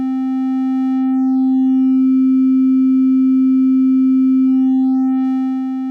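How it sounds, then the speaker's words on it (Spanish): A steady sine tone driven into strong saturation, held loud and constant for about six seconds with a bright stack of added harmonics above the fundamental, alone with no voice. "O podemos hacer una saturación un poco más fuerte"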